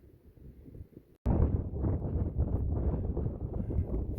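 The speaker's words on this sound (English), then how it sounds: "But this wind will dry things out quick." Strong wind gusts buffet the microphone on a mountain section of the Appalachian Trail, bursting in abruptly after a quieter start and then roaring on steadily as a loud, rough low rush.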